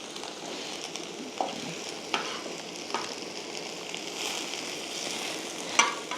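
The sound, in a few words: frying panch phoron spices with vegetables in a pan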